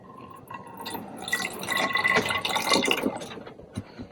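Hydrogen peroxide is poured into a container for an elephant toothpaste experiment: a close, gurgling, splashing fill that swells and bubbles for a few seconds before tapering off with a few drips.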